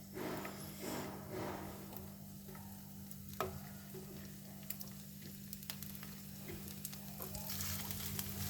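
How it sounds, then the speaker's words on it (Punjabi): Potatoes fry in desi ghee in a pan for palak dum aloo, giving a faint, steady sizzle with a few soft ticks and clinks and no talking. "ਹੁਣ ਆਪਾਂ ਇਹਦੇ ਵਿੱਚ ਨਾ ਆਲੂ ਰੱਖ ਦਿਆਂਗੇ ਇਹਨਾਂ ਨੂੰ ਆਪਾਂ ਥੋੜਾ ਜਿਹਾ ਪਕਾਵਾਂਗੇ"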